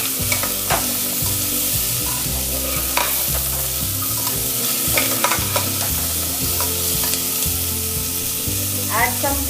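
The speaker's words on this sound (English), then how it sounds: "Add the carrots and beets. Again toss it up for 1 to 2 minutes." Carrots and beets for vegetable soup sizzle and scrape as they are tossed and stirred in a hot pan, with a steady fry under repeated close utensil strokes and no talking.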